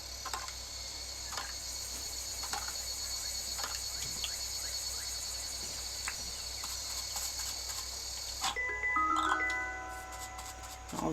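A loud insect drone from a cicada in the Dinkum video game holds steady for most of the stretch, then thins out near the end into a few brief chirps and tones.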